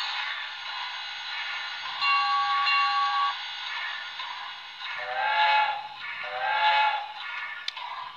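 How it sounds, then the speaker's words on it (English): Model train steam whistle from a BLI sound decoder, a thin reedy whistle sounding in a few separate blasts over a steady background hiss, close and fairly quiet. "I might change that whistle. That's not my favorite."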